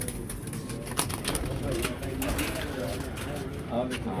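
Pigeons coo softly amid a busy background, with people talking over the birds' low, rolling calls.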